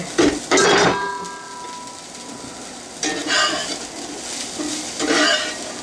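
Homemade mung bean sprouts are tipped into a pan for an omelette, bringing a few loud bursts of rustling, scraping and clattering against the pan over a steady low sizzle, with no talk.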